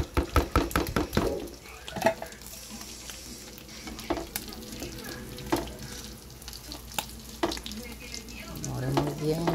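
Cooked rice being stirred in a sizzling frying pan while making arroz con gallina criolla: repeated scraping, clattering strokes over a steady close fry, with no talking.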